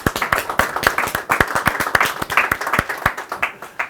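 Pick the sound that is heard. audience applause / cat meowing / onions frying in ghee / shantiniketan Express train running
audience applause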